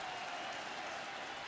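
Stadium crowd roaring at a college football game, a dense, steady wash of cheering and applause with no breaks across the short span.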